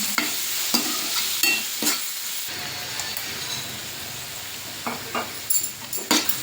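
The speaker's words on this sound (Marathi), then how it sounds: "चांगलं परत परतून घ्या" Ground ginger-garlic paste is stir-fried into tomato masala for matar kheema. Repeated scraping strokes of a spatula cut through a soft, continuous sizzle of oil in the pan.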